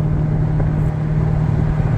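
A Chevrolet car engine idles at a car show with a steady, low, mild rumble, close and continuous and free of revving.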